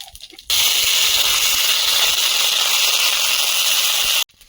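Dry red chillies and panch phoron hit hot oil for an ol and prawn curry, bursting into a loud, steady sizzle that starts abruptly, holds for about four seconds and cuts off.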